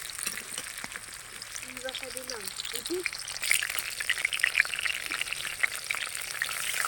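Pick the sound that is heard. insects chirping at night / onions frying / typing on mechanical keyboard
onions frying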